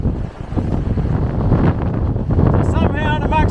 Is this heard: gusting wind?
yes